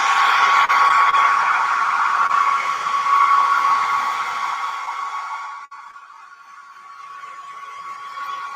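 A hair dryer blows on a soft pastel artwork of trees, a loud steady whirring hum that holds for several seconds, then drops to a quieter, more distant level after a brief dip near the end.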